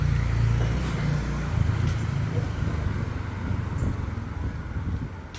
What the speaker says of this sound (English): One of these cars are heading off to the right